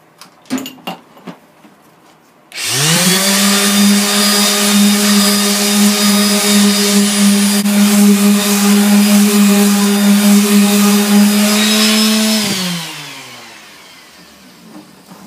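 A power sander runs on a wooden Christmas sign, starting abruptly and holding a loud, steady whine for about ten seconds before winding down, with a few knocks at the start.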